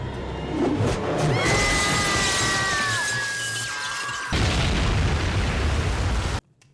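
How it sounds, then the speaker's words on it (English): A waterbed bursting into a blood explosion as glass shatters in the horror film Bride of Chucky: a loud burst and crash with descending whistling tones, then a sudden cut to a dense wash of falling debris before silence. "sets off a waterbed blood explosion"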